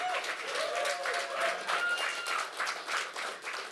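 A crowd at a LAN esports grand final applauds the teams, sustained dense clapping with some cheering that carries on evenly for several seconds.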